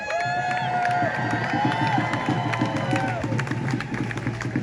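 Crowd at a protest outside NSW Parliament House cheering and whooping, with clapping and babble layered over a steady rhythmic thumping, loud and continuous.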